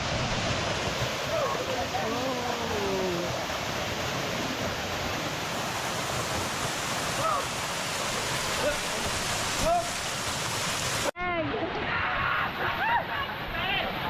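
Waterfall on the Mt. Maynuba hike in Tanay, a loud, steady roar of rushing water throughout, with hikers shouting and talking over it.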